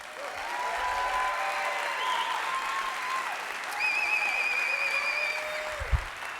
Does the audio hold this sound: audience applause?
yes